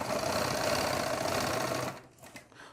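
A sewing machine stitches a seam on a circle palazzo pant, running as a fast, steady whirring rattle for about two seconds before stopping, followed by soft handling noises, close and alone.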